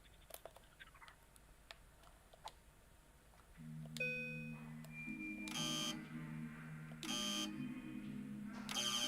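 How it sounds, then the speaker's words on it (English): Electronic buzzer and beeping tones from LittleBigPlanet 3, a string of tonal blips sounding over soft ticking, then harsh buzzing bursts repeating several times, moderately loud and without speech. "So I don't know why it's making the buzzer noise."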